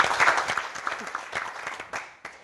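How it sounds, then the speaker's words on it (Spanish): Applause from an audience at a civic dialogue event at a Chilean house of study, a short burst of clapping that thins out over a couple of seconds, with faint voices underneath. "Un aplauso, esto, para que no sea tan rígido esto."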